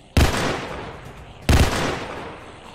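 Burst-fire gun in a Roblox shooter game: two loud, sharp bangs about a second and a half apart. Each one cracks close up and then rings out in a short decaying tail.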